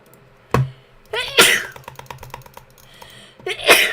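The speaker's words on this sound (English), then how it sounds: "I'm gonna be sneezing a lot during this live stream." A sharp sneeze near the start, followed by quick keyboard typing, then another sneeze at the end.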